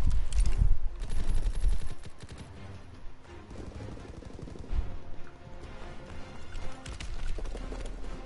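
Sustained World War II-era gunfire in a Call of Duty WW2 match, with rapid machine-gun bursts and a few heavier shots over dense game noise, loud and continuous throughout.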